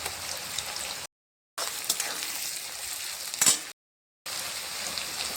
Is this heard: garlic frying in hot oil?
yes